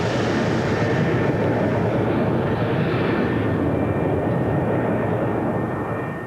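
A BAC One-Eleven airliner climbs on autopilot after takeoff, heard as a steady, loud, broadband jet engine roar with a faint high whine that holds level and eases slightly at the end, with no voices.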